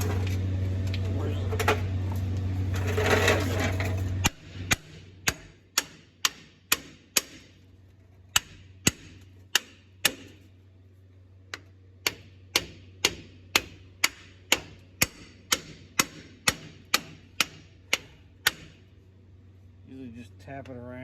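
Sharp metallic taps ring out one after another on a part of a Case 580 Super L backhoe, coming in a loose, fairly even rhythm after a stretch of low rumble and background noise.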